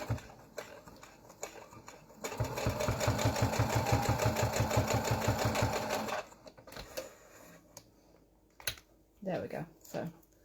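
A sewing machine top stitching a tree-shaped napkin, a rapid even mechanical chatter running for several seconds, framed by handling clicks and brief talking before and after.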